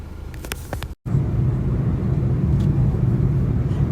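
Steady low engine and road rumble from a car being driven, loud and continuous, broken by a brief dropout near the start with a few faint clicks before it.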